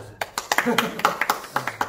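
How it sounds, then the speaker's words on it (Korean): A small online class group gives a short round of hand claps, a handful of sharp separate claps in loose rhythm, fairly close, with a voice murmuring under them. "박수."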